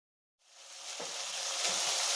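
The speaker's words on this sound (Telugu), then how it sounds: "ఒకసారి కలపాలి బాగా. 5 మినిట్స్ ఫ్రై చేసుకోవాలండి" Chopped beans hit hot oil in a pan for a beans fry, and a loud hiss bursts in after a brief silence, then holds as a steady close sizzle with a couple of soft stirring bumps.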